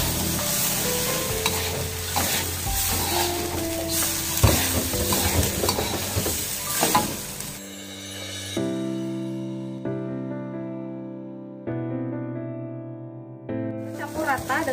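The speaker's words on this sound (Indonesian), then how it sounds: "Kita aduk nasi bersama dengan bumbunya" Rice being stirred with spices in a pan for nasi briyani, with dense scraping and sizzling for several seconds, then sustained musical tones with a soft return of the stirring.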